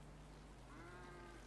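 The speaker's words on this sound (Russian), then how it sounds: "Свинки, пап. Это свинки?" Pigs in GTA 5 give a soft, steady animal grunting and bleating drone that holds at an even level throughout, with no talking over it.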